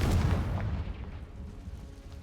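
A Confringo spell blast in the video game Hogwarts Legacy goes off as a single heavy, booming explosion that hits loud at once and then rolls away into a fading rumble.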